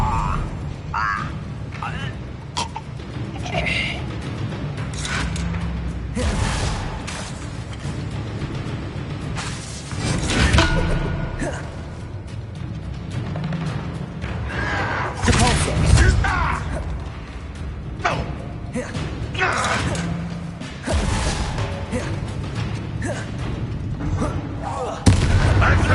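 Spell-casting combat in the Hogwarts Legacy video game: repeated booming magical impacts, whooshes and crackling bursts in a busy, continuous battle mix, with character voices shouting incantations and taunts throughout.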